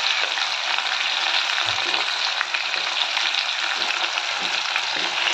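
Onion, ginger-garlic paste and dry chillies fry in oil in a pan, giving a loud, steady, close sizzle with no letup and faint stirring beneath it.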